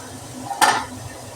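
Radish greens going into a pan of stir-fried radish, giving one short, close clatter and sizzle burst against a quiet background.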